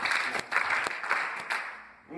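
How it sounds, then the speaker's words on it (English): An audience at a storytelling event claps together in a few sharp, close, evenly spaced claps, with a faint murmur of voices underneath. "Now if I can have everybody clap 3 times,"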